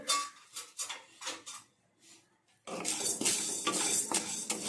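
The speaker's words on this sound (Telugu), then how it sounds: "మినపగుళ్ళని తీసుకున్నాను ఇలా వేడి బాండీలో అయితే ఫ్రై చేసుకోవాలి ఆయిల్ ఏం యాడ్ చేసుకోకూడదు" Black gram dal dry-roasting in a hot pan with no oil, stirred with a utensil that gives sparse metallic clinks, then a denser rattling rustle of the grains.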